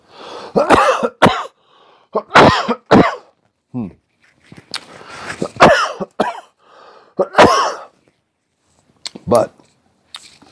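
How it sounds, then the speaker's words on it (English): Several harsh coughs and throat-clearing bursts come from a person close by, arriving in irregular clusters with short quiet gaps between them. "I do give a shit that I just coughed in everybody's face."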